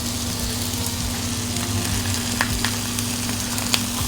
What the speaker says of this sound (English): Just put some butter here. Take your buns and toast them.